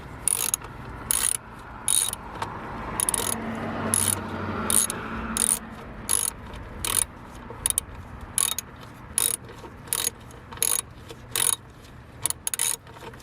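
A ratchet wrench loosens the battery hold-down bolt on a 2015 Nissan Versa, with steady rapid clicking in short repeated bursts, close up and fairly loud, and no voices.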